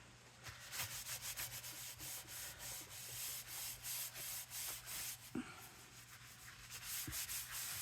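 A hand rubs across the surface of a paper card in quick repeated strokes, a soft dry scuffing rhythm that is faint and close, with a couple of light taps between strokes.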